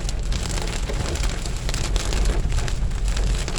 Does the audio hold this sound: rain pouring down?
yes